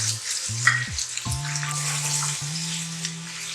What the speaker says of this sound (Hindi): ये कीमा शामिल कर रहे हैं, तकरीबन 1 पाव है हमारे पास। तो अच्छी तरह से भूनना है